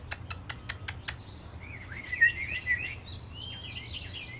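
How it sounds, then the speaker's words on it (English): A small bird chirps close by with a quick run of six sharp, evenly spaced calls, followed by softer twittering and warbling notes over faint background noise. "Hi, sweet bird."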